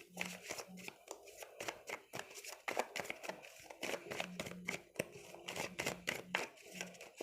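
Tarot cards are handled and drawn, giving quick soft papery snaps, slides and flicks in an uneven rhythm, close but quiet, while a voice speaks at intervals.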